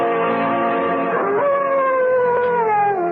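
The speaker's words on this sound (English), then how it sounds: "What the devil is the matter with that dog, Chadsworth?" A dog in a CBS Radio Mystery Theater drama lets out a loud, sustained, wavering howl that bends in pitch partway through, with no voices over it.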